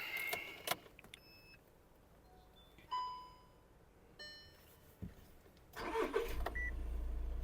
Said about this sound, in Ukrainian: Завівся автомобіль чітко, легко так як і має.